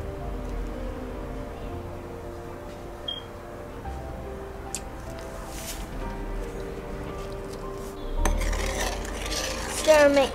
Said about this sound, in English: Stir and make sure the salt's all dissolved.